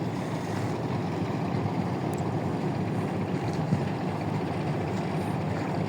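Passenger launch boats on the river from Dhaka to Chandpur, a steady low engine drone with wind and water noise running continuously, no voices.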